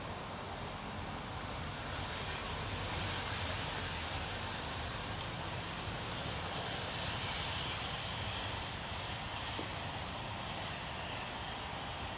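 A jet airliner taking off from the runway at Manchester Airport, a steady broad engine roar that holds throughout without a break, moderately distant.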